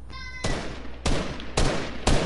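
Assault rifle fire in Fortnite, four loud, sharp single shots spaced roughly half a second apart, close and with no talk over them.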